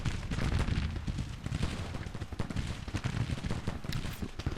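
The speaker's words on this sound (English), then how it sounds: "there goes our artillery" Cannon fire from artillery batteries in a Civil War strategy game, a steady dense rumble of booms and crackling shots rolling on without pause, moderately loud and continuous.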